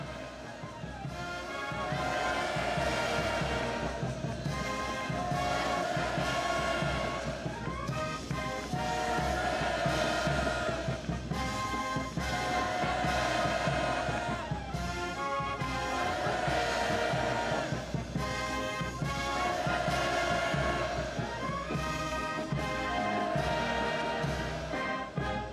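A large crowd at an arrival ceremony in Pyongyang shouts hurrahs in rhythmic waves, a dense roar repeating at regular intervals, loud and sustained throughout.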